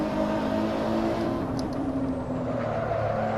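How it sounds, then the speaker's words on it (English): A Nissan GT-R Nismo's V6 engine in the game Assetto Corsa drones at steady revs, a thick, buzzing hum with a slight pitch drift, loud and continuous throughout. "I like the V6 sound."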